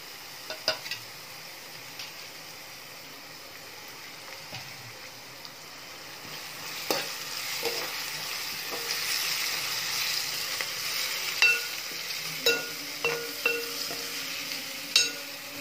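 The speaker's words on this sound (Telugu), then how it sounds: "ఇప్పుడు దీంట్లో కడిగి పెట్టుకున్న కరివేపాకు కూడా వేస్తున్నానండి" Washed curry leaves dropped into a hot frying pan while cooking fish eggs fry, crackling and sizzling as oil spits, with a steady fry hiss and a few metallic clinks of a spatula toward the end.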